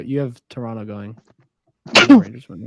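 One sharp sneeze bursts out between stretches of conversational talk about hockey playoffs, close and loud, then quickly fades.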